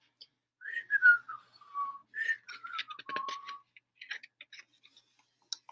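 A person whistles a short, wavering melody of several notes nearby, with pauses and a few soft clicks between phrases.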